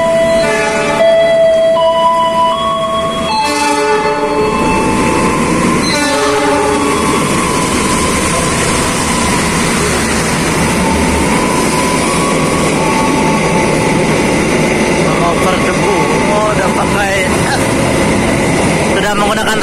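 A KA Majapahit economy-class train runs near Tegal station with its horn blaring in several long, loud tonal blasts, set over a steady rumbling rush of wheels and wagons.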